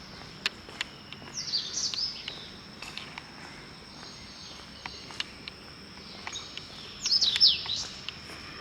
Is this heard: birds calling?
yes